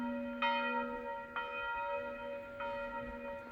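A church bell tolls at noon in a French village near Saint Amans des Cots, heard on a countryside hike: three slow, ringing strikes with long humming decays, moderately distant and fairly quiet.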